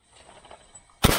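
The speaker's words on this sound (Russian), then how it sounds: "один выстрел" A single sharp, loud MP-155 shotgun shot bursts out after a second of quiet low rumble, its blast filling the air and lingering briefly.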